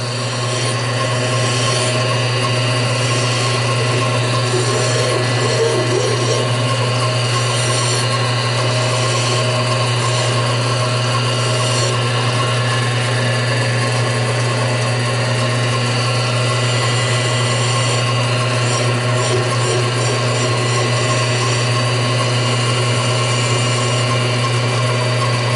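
Deburring a machined Hoglet engine cylinder, with a continuous loud machine hum and whir running throughout and faint intermittent scraping and chattering of the tool against metal.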